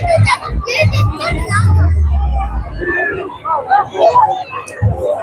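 Crowd hubbub at the Nag Panchami fair in Nalegaon, Ahilyanagar: a close, busy mix of overlapping voices, including children, with nearby talking rising above the general babble.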